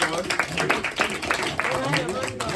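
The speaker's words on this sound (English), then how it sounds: "Give me Armando, applause" Brief scattered applause in a conference room at a community safety meeting, light clapping heard under ongoing talk and voices.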